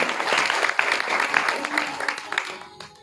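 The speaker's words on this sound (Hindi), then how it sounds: "उनके लिए जोरदार तालियां।" An audience at a village Bhagwat Katha religious gathering claps: a steady, fairly close burst of applause that tapers off after about three seconds, with voices audible underneath.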